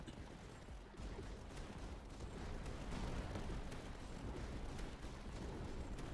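Faint, dense rumbling of repeated cannon booms and blasts in the video game Tower Dominion blends into a continuous distant bombardment.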